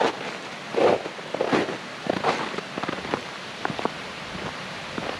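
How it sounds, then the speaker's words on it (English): Splashing, patter-like water sounds with uneven bursts, like a small cascade nearby, continuous throughout. "Over here, a nice little waterfall."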